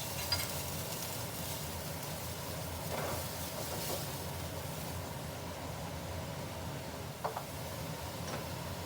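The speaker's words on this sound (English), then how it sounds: "these are cooking with the Marsala wine and the butter and a little bit of pan drippings" Mushrooms cook with Marsala wine, butter and pan drippings in a pan, a soft steady bubbling sizzle with occasional light spoon clicks, fairly quiet.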